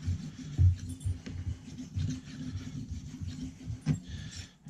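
Close, steady rasping strokes of a knife edge drawn across a Lansky sharpener stone in a sawing motion, repeating back and forth in an even rhythm.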